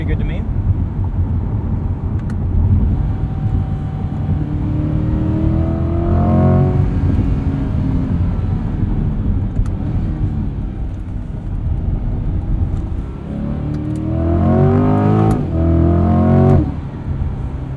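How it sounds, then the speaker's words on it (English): A 2021 Chevrolet C8 Corvette Z51 with the Performance Package and a dual-clutch transmission, set to its loudest engine sound, revs up through rising sweeps twice, once midway and again near the end. It cruises more quietly in between, and someone talks over it. "I have my mode set to the loudest engine sound with everything else in comfort."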